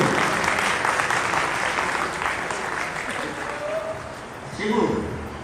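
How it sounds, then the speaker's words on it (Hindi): Audience clapping in welcome of a guest at a political gathering of a foundation in Gorakhpur, fairly loud and continuous, swelling briefly near the end, with a voice speaking over it. "आप लोग तालियों के साथ स्वागत करिए।"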